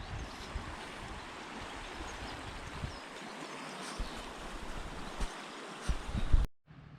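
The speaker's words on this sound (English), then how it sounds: "There is some fast moving water here, which would be really good for kayaking." Fast-flowing river water in the Victorian Alpine region rushes steadily and loudly near the microphone, a continuous broadband wash with some wind buffeting, swelling briefly before cutting off at the end.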